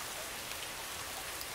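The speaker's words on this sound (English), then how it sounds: "No, it's a dishwasher." Dishwasher running with a steady, rain-like hiss of water spray, broadband and continuous at moderate level, no voices.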